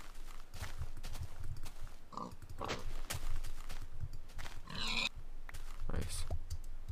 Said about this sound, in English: Go slaughter some pigs.